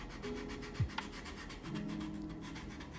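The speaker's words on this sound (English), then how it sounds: "grab your sanding sponges" A sanding sponge rubbed over a model surface while weathering with dust and pigments, giving soft, close scratchy strokes in a steady back-and-forth rhythm, with one brief sharper scrape near the start.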